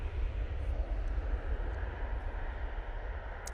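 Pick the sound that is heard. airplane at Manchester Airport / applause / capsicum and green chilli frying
airplane at Manchester Airport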